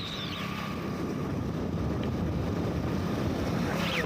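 Strong wind roars steadily over a snowy road while driving to a factory, a dense, continuous rushing noise with faint higher whistles drifting in and out and no voices.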